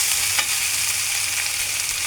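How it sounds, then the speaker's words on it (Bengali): Chopped onions frying in a pan for a mashed bharta, a steady close sizzle with light stirring scrapes and no talking. "আর পেঁয়াজ কুচি দিয়ে দিচ্ছি।"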